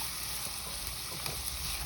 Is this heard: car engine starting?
no